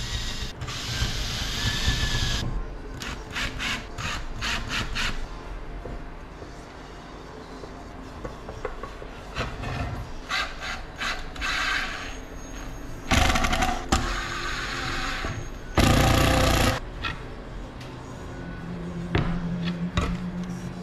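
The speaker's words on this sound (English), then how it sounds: "drill the screws in, and line the screws up with the pocket holes of the handle" A power drill whirs in repeated bursts, driving screws into scrap wood through pocket holes, with clicks and short pauses between runs, close and fairly loud.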